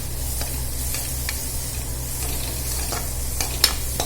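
Pasta ingredients sizzle steadily in a pan while being stirred, a continuous close frying hiss broken by soft scraping strokes and one brief sharper tap near the end, with no talking.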